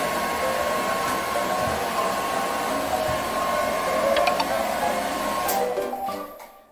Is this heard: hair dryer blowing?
yes